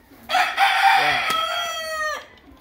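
Rooster crowing once, loud and close, a drawn-out harsh call lasting about two seconds inside a breeding coop with hens, with faint soft clucking before it.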